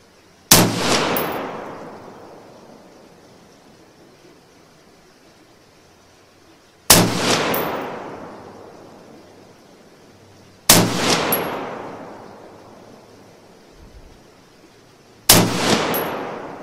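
Four loud, sharp rifle shots from a .223 firing Tulammo 75 grain ammunition crack outdoors, each ringing out in a long decaying echo, spaced several seconds apart with nothing else heard.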